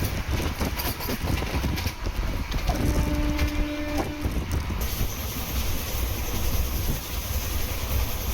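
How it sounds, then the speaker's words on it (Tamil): An ICF passenger coach of the Kamban Express rumbles along the rails, steady clattering and wheel noise with jerky knocks and a brief squeal, heard from inside the moving train. "இந்த ஐசிஎஃப் ரேட் செம்ம ஜர்க்காக இருக்குங்க."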